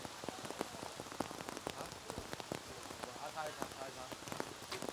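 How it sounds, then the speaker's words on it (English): Rain falls steadily during an outdoor archery compound team final at the 2014 Shanghai World Cup, a constant spatter of close, crisp drops on surfaces with a soft hiss underneath. "Jamie Van Atta trying to block out all of that rain"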